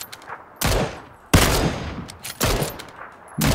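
Gunfire in the battle royale video game PUBG: Battlegrounds, with four loud, sharp bursts of shots spaced about a second apart, each ringing out with a short decaying tail between blasts.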